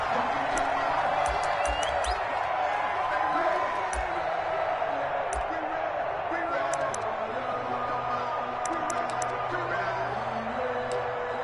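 A stadium crowd in an NFL video game, Buffalo Bills against Tennessee Titans, roars in a dense, continuous wall of noise with scattered whoops and sharp thuds, and a commentator talks over it.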